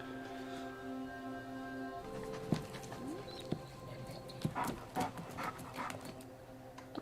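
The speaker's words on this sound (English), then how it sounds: "Oh, puppy." A puppy pants steadily, with soft footfalls and scuffs over a low musical hum. The sound is faint to moderate and close, with no talk.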